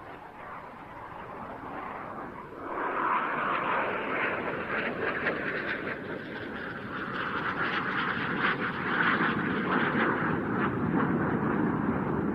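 A Master jet trainer flying a square dance manoeuvre, a 360-degree turn with aileron rolls, at an air show; a sustained jet roar that swells after a few seconds and stays strong, with shifting tone.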